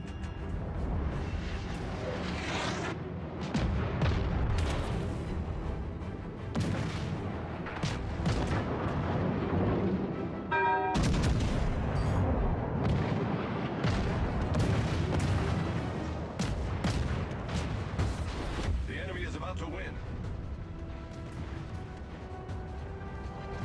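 Heavy battleship guns boom repeatedly during a naval battle in World of Warships Legends, with dense, loud, overlapping blasts and rumbling explosions throughout, no speech.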